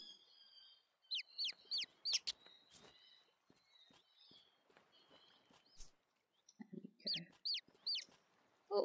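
Farm chickens in a video game give bursts of short, rising chirpy clucks in quick clusters, alongside light footstep taps and small clicks, with no talking.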